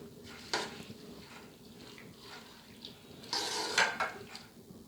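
Chopped apples and cream mixed in a bowl, a few scattered clinks and scrapes of a spoon against the dish with quiet gaps between them, close but soft and without voices.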